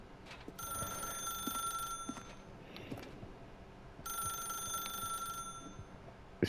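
A telephone rings in The Stanley Parable: Ultra Deluxe, two long bursts of shrill bell ringing separated by a pause, clear and moderately loud.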